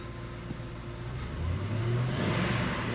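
A 2000 Ford F150 engine with a misfire code on cylinder one is revved up from idle, its steady mid-pitched drone rising and swelling to a louder, sustained roar.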